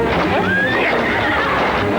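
A horse that has slipped in mud lets out a loud, sustained whinny with a rising pitch, close by, over continuous rumbling background from a 1985 French Robin Hood adventure film.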